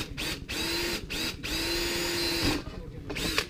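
A power drill bores a 1/8-inch hole into an alcohol stove, whirring close and fairly loud in several short bursts with brief pauses between them.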